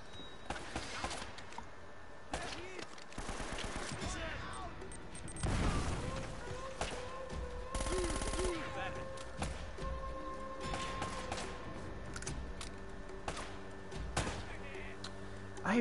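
Gunfire from the action-adventure game Uncharted pops in scattered shots and thuds within a busy, continuous layer of game sound and music, moderately loud throughout.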